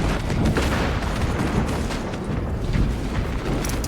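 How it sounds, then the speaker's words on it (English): A krak grenade going off in Warhammer 40,000: Space Marine II, a heavy explosive rumble that rolls on through several seconds of dense, sustained combat noise without a sharp single peak. "Using crack grenade."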